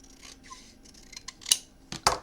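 Scissors trim paper overhang on a handmade memory book, heard as quiet rustling followed by two crisp, close snips near the end.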